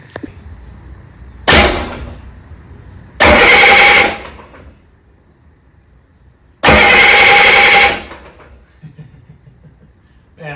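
A 1972 CAT 3306 diesel engine cranks in loud, close bursts, one short and two long, with silent pauses between them, and it does not catch and run.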